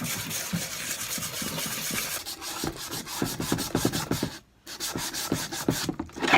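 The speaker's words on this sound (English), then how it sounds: "I'm just gonna sand it, okay? So that the paint has something to hold on to." Sandpaper scrubbing over a customized Ouija board to rough up the surface for paint, close and loud with steady back-and-forth strokes, briefly pausing before resuming.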